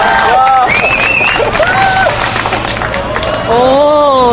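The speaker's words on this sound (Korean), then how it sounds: "힘찬 박수 한번 부탁드립니다" A crowd at an outdoor candlelight rally in Korea claps and cheers, a constant murmur of applause and voices with loud shouts and whoops rising above it, up close and busy.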